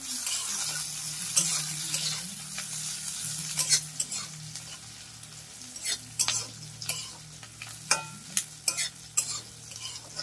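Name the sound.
bay leaves sizzling in hot oil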